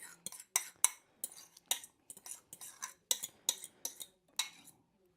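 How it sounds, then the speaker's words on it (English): Banana mixture being whisked into cookie dough in a bowl, with a rapid run of irregular clinking and scraping strokes of a whisk against the bowl, close and fairly quiet. "And we're just going to whisk that in"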